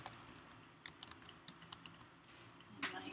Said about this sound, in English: I would type in my email